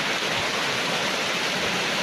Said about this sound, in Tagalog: Grabing lakas ng ulan guys.